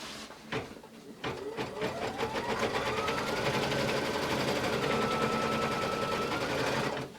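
An embroidery sewing machine stitches a placement line on a Kimberbell mini quilt, starting after a few clicks and then running as a fast, steady, rhythmic mechanical whir with a rising motor tone, close and continuous.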